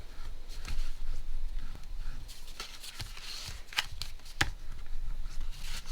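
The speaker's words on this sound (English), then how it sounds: "So you want to fold each side in," Paper envelope sides are folded on a 1-2-3 Punch Board, giving soft rustling and crinkling with a few sharp creasing snaps, close up and fairly quiet.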